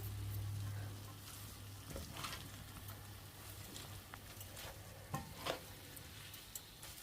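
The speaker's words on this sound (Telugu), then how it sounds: "చక్కగా కలిపేసుకోవాలి హై ఫ్లేమ్ పైన" Street-style Hakka noodles are stirred and tossed in a pan over high flame, a faint continuous sizzle broken by a few sharp scraping strokes, with no talking.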